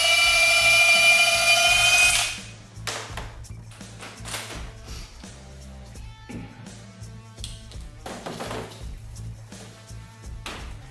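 A power tool removing a wheel from a Toyota GR86 on track prep: a loud whirring burst of about two seconds, then quieter clanks and tool handling with music in the background.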